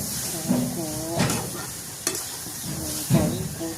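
Grated raw papaya roasting in a little ghee in a wok for halwa, with a constant hiss of frying under repeated scraping strokes of a spoon stirring through the mixture.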